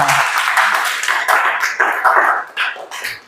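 An audience at an Indonesian agricultural youth event claps together, a steady wash of applause lasting a few seconds with a few louder individual claps near the end.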